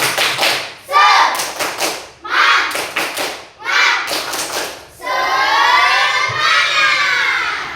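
Schoolchildren in a classroom beat out a rhythmic spirit clap in quick bursts, their voices chanting and shouting along loudly between and over the claps.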